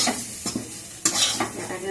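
Fried pointed gourd, potato and yardlong beans are lifted from a sizzling pan, with a few sharp spatula scrapes over a soft, steady frying hiss at close range.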